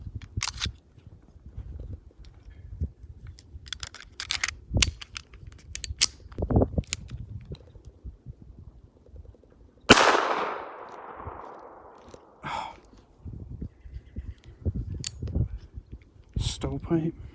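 Several sharp, loud Walther PPK pistol shots fired outdoors, spaced irregularly with metallic clicks and handling noises between them, one especially loud crack with a lingering tail, and people talking in between.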